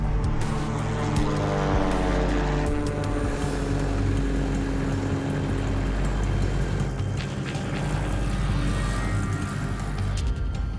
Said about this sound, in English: The engine sounds good though so far.